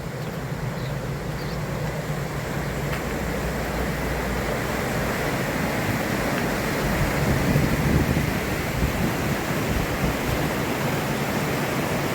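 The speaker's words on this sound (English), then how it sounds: "The stream of the river in full flow in Aberarth." Steady, loud rush of a river in full flow at Aberarth, Wales, a continuous broad roar with no pauses and no voices.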